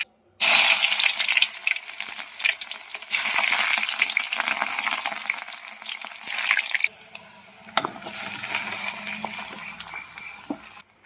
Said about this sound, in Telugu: త్వరగా అయితే కర్రీ తాలింపు వేసేద్దాం.